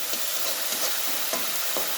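Sponge gourd with salt and turmeric, for a fish head curry, fries in a pan with a loud steady sizzle and regular stirring scrapes every half second or so.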